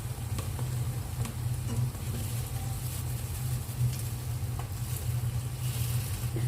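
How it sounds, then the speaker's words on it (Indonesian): Cakwe dough sticks fry in hot oil with a soft, continuous sizzle and occasional light pops, heard steady and fairly quiet against a low background hum. "Goreng semuanya ibu."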